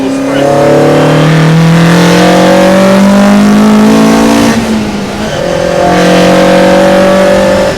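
A JDM-engined Austin Healey Sprite accelerates hard, its engine loud and close, revving up through rising pitch, dipping briefly at a gear change, then climbing again.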